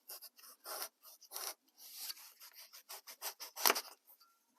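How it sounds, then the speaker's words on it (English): Dense urethane foam, shaped like wood for a model trestle bridge, is sanded smooth by hand in short, quiet scratchy strokes, close up with small gaps between passes and no voices. "Sand that smooth."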